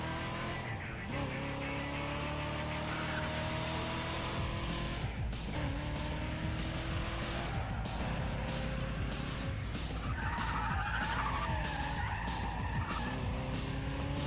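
Racing car in Need for Speed ProStreet, heavy and struggling through corners, skids with sustained tire squeal over a constant engine roar, sliding repeatedly with louder screeching bursts around the middle and later.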